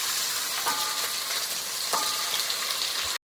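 Onions drop into hot oil already crackling with mustard seeds and cumin, giving a loud, steady sizzle up close with a couple of sharp spatula scrapes, and no talk.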